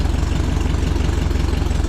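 A 1961 VW Beetle engine idles steadily after a carburetor adjustment, a close, even low rumble with a fast regular pulse throughout, no voices.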